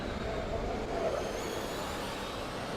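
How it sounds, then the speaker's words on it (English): Cooling fans roar steadily on the Trondheim Formula Student car during an endurance event, a faint, constant broadband rush with no clear changes and no voices. "Yeah, we hear the cooling fans on the Trondheim car blasting."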